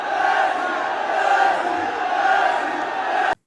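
A large stadium crowd in Saudi Arabia chants loudly and continuously at Ronaldo, the massed voices forming a steady, roaring wall of sound that cuts off abruptly at the end.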